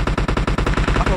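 Rapid automatic gunfire rattles out in a tight, even burst of about a dozen shots in the mobile battle royale game PUBG Mobile, loud and close, with no pauses between rounds.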